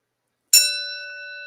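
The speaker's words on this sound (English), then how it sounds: "ring that bell for Barbara and Ed" A single bell ding strikes sharply out of silence, a bright metallic ring that sustains and slowly fades.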